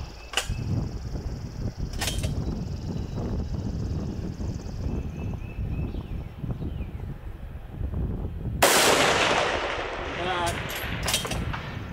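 A rifle fires at a distant outdoor target, with a couple of sharp cracks early on and a loud blast near the end followed by a lingering broadband echo over wind and low murmuring voices.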